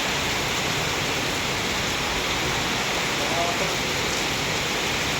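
Heavy storm rain pours down as a dense, unbroken roar that fills the whole stretch at an even loudness, with a voice faintly mixed into the noise.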